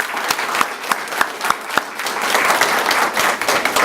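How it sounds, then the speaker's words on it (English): Audience applause at a Partners in Education recognition event, starting with several distinct, evenly spaced claps that swell into a full, dense round of clapping from a crowd. "So let's give everybody a round of applause."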